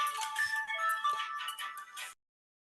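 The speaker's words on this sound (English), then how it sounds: "I'm just getting a phone call." A phone ringtone for an incoming call plays continuously as a bright, steady melodic tone for about two seconds, then cuts off abruptly into silence.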